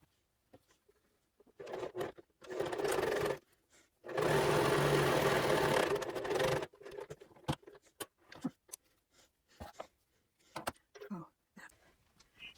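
A sewing machine stitches fabric pieces closed in two sustained runs, the longer one a steady rapid whir lasting about two seconds, with scattered clicks and fabric handling between them, close up.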